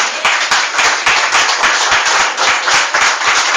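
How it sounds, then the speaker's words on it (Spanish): Church congregation applauding after a sermon passage, a loud, dense burst of rapid hand claps sustained steadily throughout with no talking. "¿Quieren dar un aplauso al Señor?"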